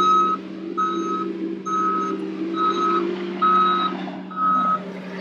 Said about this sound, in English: they brought in a bunch of trucks to help haul